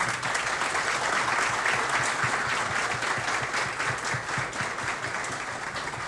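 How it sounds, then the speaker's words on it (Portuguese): A crowd applauds steadily for several seconds, a dense wash of clapping with no pause. "Uma salva de palmas para os nossos patrocinadores"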